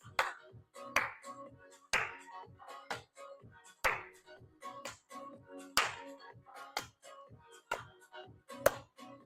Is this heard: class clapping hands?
yes